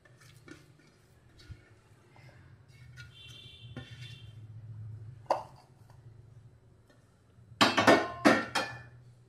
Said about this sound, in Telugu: ముందుగా పొటాటోస్ని ఇలా ఒక బౌల్లోకి వేసుకోవాలి